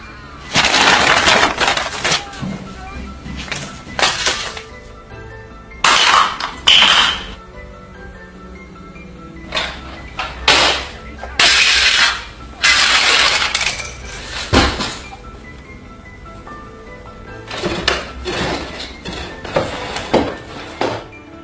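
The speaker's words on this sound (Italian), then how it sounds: "la telecamera stessa, che dopo i fogli riprende degli oggetti sul tavolo che vengono spostati e lanciati" Objects on a table are shoved and flung, giving a series of loud clattering impacts with glassy clinks and knocks. The impacts come in irregular bursts separated by short silences.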